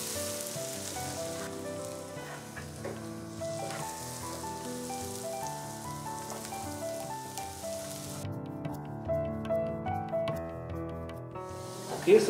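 Onions frying in hot oil for a Punjabi dish, a steady sizzle running under background music with a louder spit and crackle at the very end.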